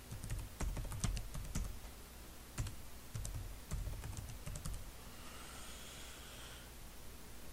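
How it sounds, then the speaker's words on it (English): Password typed on a computer keyboard: a quick run of close, crisp key clicks in bursts, then a pause and a steady faint hiss to the end. "in the new password and confirm password boxes,"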